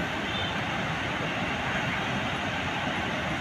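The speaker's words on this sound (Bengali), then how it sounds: "আজকের দেখছেন জলের তোড়টা কিরকম।" Water rushes powerfully through the Farakka Barrage, a dense, constant roar of churning flow, loud and close, with no voices over it.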